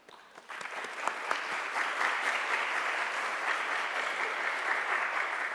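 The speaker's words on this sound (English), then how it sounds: "let's give them a big applause" Audience applause at a university sustainability ranking award ceremony, a steady, dense wash of clapping from many hands that swells in and holds evenly, with no talk over it.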